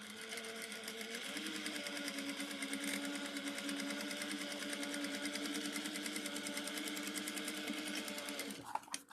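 Sewing machine top stitching fabric for a cork project, running in one steady continuous whir for several seconds before stopping with a few clicks at the end, close and alone without talk.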